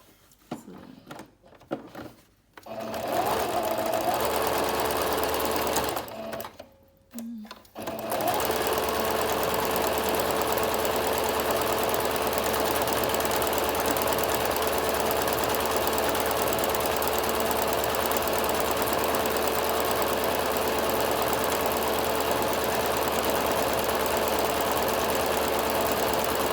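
A Singer Brilliance 6180 sewing machine stitches a one-step buttonhole, running in a steady, fast mechanical whir after a few short starts and stops, close and continuous for over fifteen seconds.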